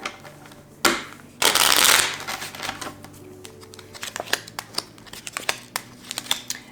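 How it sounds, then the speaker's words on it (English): A deck of tarot cards is shuffled by hand, giving a loud riffling burst followed by lighter flicks and taps as individual cards are pulled. The sound is close and there is no speech. "Let's go ahead and pull some clarification cards."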